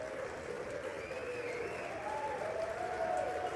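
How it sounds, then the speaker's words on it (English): Applause and cheering on the House floor after a vote passes, a steady wash of clapping and crowd noise with some whoops rising above it, heard at a moderate distance throughout. "A lot of hooting and hollering, some cheering on the floor of the House right there."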